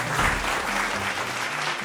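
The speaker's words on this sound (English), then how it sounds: "A round of applause for them." Audience applause for a school quiz team at a quiz contest, a brief, steady wash of clapping at moderate volume with no talking over it.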